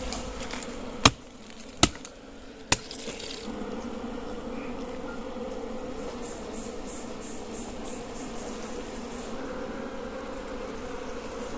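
Wild honeybees buzz at a nest inside an anthill in dense forest, a steady soft droning hum that runs for the whole stretch, preceded by three sharp isolated clicks near the start.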